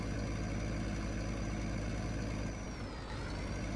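A truck in the Drivers Jobs video game drives with a steady, loud, droning engine rumble. The tone dips briefly near the end, and no one speaks over it.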